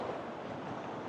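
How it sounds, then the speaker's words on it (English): Outdoors on a very windy day, gusts buffet the microphone in a continuous loud, broadband rumble with no talking. "I apologize, it's super duper windy"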